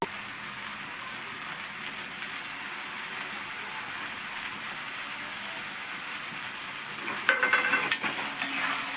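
Onion frying and being stirred in a pan while making a village-style dal-onion dish, a steady close crackling sizzle throughout, with a few louder scraping stirs near the end.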